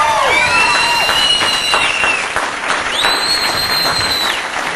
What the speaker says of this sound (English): let's give a big round of applause for all the U.S. troops over there fighting for us